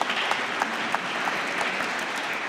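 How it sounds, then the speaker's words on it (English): Audience at an academic annual conference applauding, steady dense hand clapping from a roomful of people, even and continuous throughout without speech. "I arranged the clapping hands for you."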